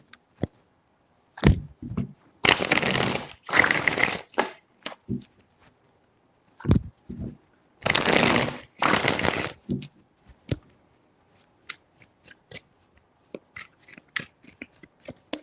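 Tarot cards shuffled by hand in several bursts of crisp riffling and soft slapping, close and fairly quiet, separated by short pauses and small handling taps.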